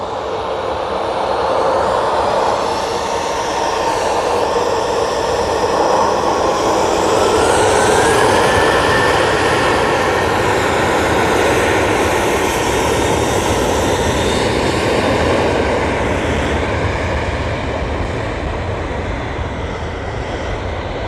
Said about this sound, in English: Ryanair now on the roll off to Budapest.